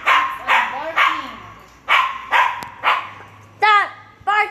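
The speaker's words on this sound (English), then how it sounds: "Stop barking right now!" A dog barks repeatedly in short bursts, several loud barks spaced unevenly, with a couple of higher yelping barks near the end.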